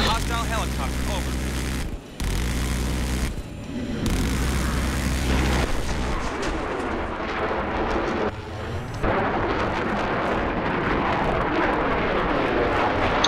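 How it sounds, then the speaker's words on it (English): Loud, steady engine roar of a hostile helicopter in a video game fills the scene, with explosions and gunfire bursts and radio-style chatter layered over it. "Be aware, I've spotted a hostile helicopter."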